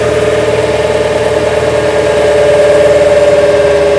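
A New Holland TL-90 turbo diesel tractor engine runs under dyno load at low RPM, a loud continuous droning hum with steady pitch and a slight throb, close by and alone.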